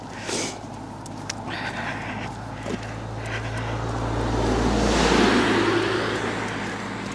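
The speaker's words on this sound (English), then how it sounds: "This is quite a busy road, so forgive the traffic noise when it goes past." Traffic on a busy road near Killin, Scotland, in winter: a vehicle approaches with a swelling rush, peaks loudly and then fades, over a low steady hum.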